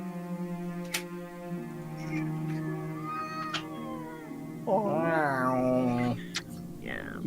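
A house cat meows loudly and close, a wavering drawn-out cry in the middle with shorter mews around it, heard over a steady low background hum.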